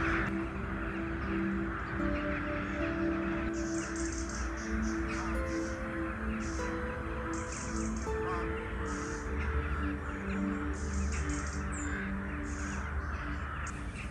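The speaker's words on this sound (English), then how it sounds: "When you hear all these birds," Many birds call at dawn, dominated by repeated crow caws scattered across the scene at mid distance over a steady dense chorus and low background hum, with no talking.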